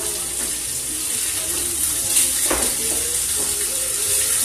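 A pork chop sizzles in a hot pan with a steady, bright hiss, and a brief clatter partway through comes as it is turned over for smothered pork chops.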